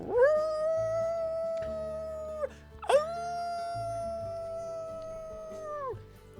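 A human voice imitates a dog howling into the wind, two long sustained tonal howls, the first rising then holding steady, a brief gap, then a second louder swelling howl, heard alone.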